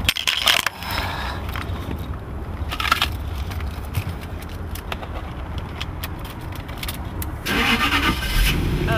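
An engine cranks with a few clunks and catches, then settles into a low steady idle, growing slightly louder near the end.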